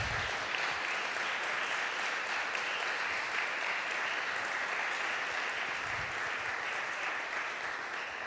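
A seated audience gives sustained, even applause for international relations office staff at an internationalization partnership event, the clapping holding steady and fairly loud throughout.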